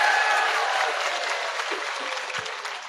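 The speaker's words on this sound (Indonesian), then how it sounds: "Tepuk tangan dulu dong." An audience at an Indonesian religious lecture claps together, dense steady applause filling the room and slowly easing off over a few seconds.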